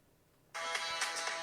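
A mobile phone starts ringing abruptly partway through, a loud steady electronic ringtone with a tonal, pulsing pattern that continues to the end.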